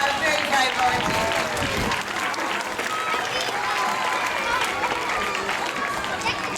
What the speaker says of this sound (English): Big round of applause for our very brave volunteer